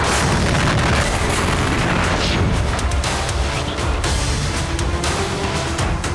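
Armored vehicles blowing up in wartime combat footage, heard as a dense, continuous barrage of heavy booms and crackling bursts, loud and chaotic throughout with no clear pauses.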